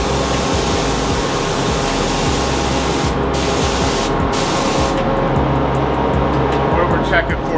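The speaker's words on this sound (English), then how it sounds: "We're priming just a sample piece of wood that wasn't really prepped." A spray gun lays primer onto a sample piece of unprepped wood, producing a loud, continuous close hiss that cuts out briefly twice before resuming.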